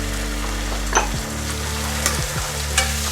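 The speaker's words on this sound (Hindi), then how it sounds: "डाल दीजिए ये टमाटो प्यूरी।" Tomato puree poured into a hot pan of caramelized onions for a creamy mushroom methi dish, giving a steady close sizzle while a spoon stirs and scrapes through it in short strokes. No one speaks.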